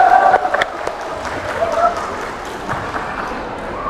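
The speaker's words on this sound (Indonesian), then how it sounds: "Tepuk tangan kita semua." Audience at a Batak clan Christmas gathering claps and cheers in a brief burst of applause, crowd voices mixed in and fading after the first couple of seconds.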